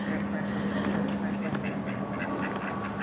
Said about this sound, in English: Ducks are beside.